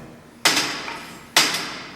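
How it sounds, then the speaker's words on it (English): A lead hammer being handled, giving two sharp metallic knocks about a second apart, each with a short ringing decay, fairly close and with no talk. "There's a lead hammer."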